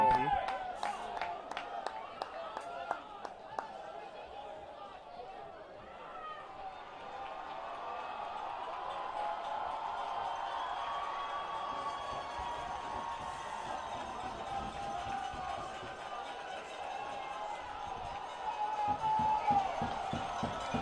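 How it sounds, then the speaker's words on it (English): Crowd noise from spectators at a 4A North Carolina state championship high school soccer match, a steady broad murmur of cheering throughout, swelling slightly near the end, with a voice talking over it. "I love how the crowd is getting into it."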